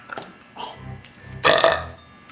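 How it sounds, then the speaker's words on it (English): A single long, loud, close burp, drawn out over about half a second after a few quieter breathy sounds. "I'm gonna give you a burp"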